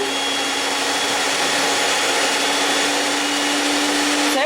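A Scarlett SC-HM40B01 stand mixer runs with its bowl spinning, giving a steady, loud motor whir with a constant hum that continues unbroken throughout, with no talking.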